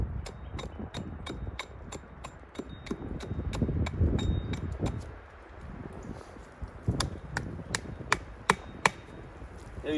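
A hewing hatchet shaves a piece of wood down to size in a series of sharp, irregular chopping strikes, close and fairly crisp, with quieter scraping in between.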